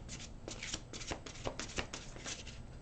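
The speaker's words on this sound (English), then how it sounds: "And another shuffle." A thick deck of angel cards is shuffled by hand in quick, rustling riffles and slaps, close and clear, with a rapid uneven rhythm throughout.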